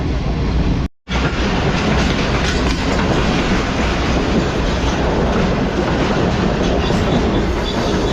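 Karakoram Express 42 Down train passing on a curve before Hyderabad junction, a loud, sustained rumble of wagons and clickety-clack wheels heard up close, broken by a brief dropout early on, with no talking.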